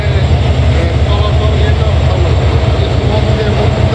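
Dhumketu Express train crossing the new Jamuna rail bridge, a steady, loud low rumble of wheels and carriages running throughout, with a person talking over it.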